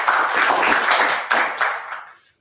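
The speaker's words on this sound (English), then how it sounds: "Give a round of applause." Brief applause from a Toastmasters meeting audience, a dense patter of clapping that holds steady for about two seconds, then thins and fades out quickly.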